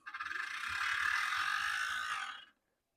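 A seized Athearn Blue Box HO scale GP35 model locomotive motor grinding under low power, a steady harsh ratcheting whir lasting about two and a half seconds before cutting off abruptly, close and fairly loud with no talking.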